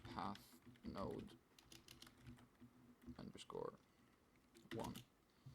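Keyboard typing in Unreal Editor, heard as short clustered bursts of quick keystrokes with quieter gaps between them, fairly faint and close, with no talking over them.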